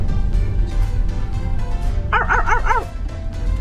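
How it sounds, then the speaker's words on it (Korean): A dog barks four times in a quick, rhythmic burst from a little distance, heard over steady car engine and road noise on a drive through Croatia near Zagreb. "멍멍이"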